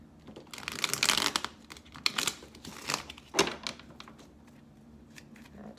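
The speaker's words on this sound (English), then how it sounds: "finally got that good shuffle I was looking for." Tarot cards are shuffled in several quick riffling bursts, crisp and close, separated by short pauses, with no one talking.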